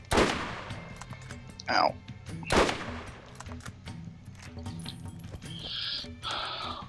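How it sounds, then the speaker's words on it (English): Gunfire from the Gun of Awesome, a weapon firing explosive bullets in the Borderlands video game, with two sharp loud blasts near the start amid game noise and a brief voice exclamation. "I finally unlocked... The Gun of Awesome! A little bit weaker, but it's okay. Why? Because it fires boomy bullets."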